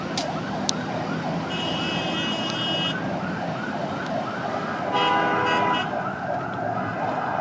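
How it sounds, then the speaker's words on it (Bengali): An ambulance siren wails loudly and continuously as the vehicle moves along an expressway in Dhaka, with traffic noise rumbling underneath. "তাকে বহনকারী অ্যাম্বুলেন্সটি ইতোমধ্যেই এক্সপ্রেস ওয়ে দিয়ে এগিয়ে যাচ্ছেন"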